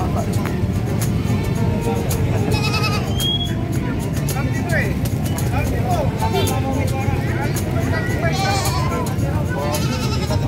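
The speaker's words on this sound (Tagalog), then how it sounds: "Guys, mga kambing ni Sir Rod." Goats bleat intermittently at the San Carlos City livestock market, their calls mixed with crowd babble, voices and passing vehicles.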